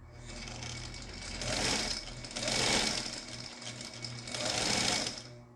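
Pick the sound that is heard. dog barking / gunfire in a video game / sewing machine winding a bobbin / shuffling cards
sewing machine winding a bobbin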